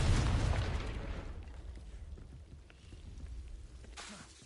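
A Confringo blasting curse goes off in Hogwarts Legacy: one loud, low burst at the start that fades into a rumbling, crackling tail, with a fainter pop near the end.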